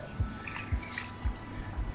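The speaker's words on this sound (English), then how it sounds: "The next step is to water this." Water is poured onto the soil of a newly potted portulaca plant in a pot, giving soft regular drips and splashes about every half second, close and gentle.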